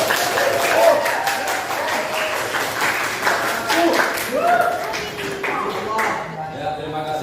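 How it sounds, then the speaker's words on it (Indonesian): A classroom of students applauding a group's presentation, a steady patter of claps from many hands filling the room for several seconds, with a teacher's voice talking over it. "Ya, berikan aplaus untuk kelompok"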